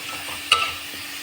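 Rice and dal being mixed together in a pot, a single short scrape of a spoon standing out against a soft steady background hiss, close and brief.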